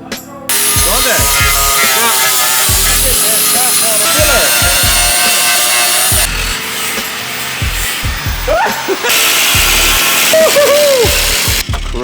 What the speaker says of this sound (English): More rust today being cut out.